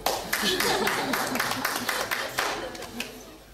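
A crowd applauds at a Citroën rally event in Great Britain, steady clapping filling the scene at moderate level while a voice speaks over it.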